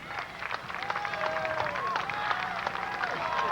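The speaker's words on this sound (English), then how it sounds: "And you can hear the crowd." A stadium crowd at a 1988 college soccer cup final between Northern Illinois and SIUE rumbles steadily from a distance, with cheering and whistles rising under a commentator's voice.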